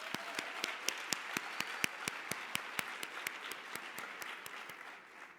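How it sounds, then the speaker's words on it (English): Applause at a women's executive leadership conference, a small audience clapping in quick distinct claps, fairly faint and slightly distant, tapering off at the end. "let's give Donna Brazil another round of applause"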